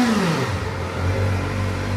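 A Kawasaki ZX4RR motorcycle engine revs loudly and close by, its pitch sliding and climbing through the rev range in a continuous throaty roar.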